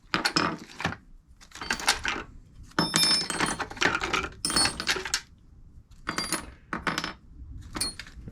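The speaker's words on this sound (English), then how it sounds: "You get a selection of Allen keys." Metal Allen keys from a Warco WM240B lathe accessory kit clink and rattle in bursts as they are handled, sharp bright jingles separated by short pauses, close and fairly loud.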